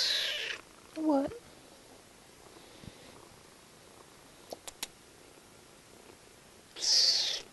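A happy young kitten purrs steadily and faintly throughout, broken by a few short high meows near the start and end, with a few soft clicks in between.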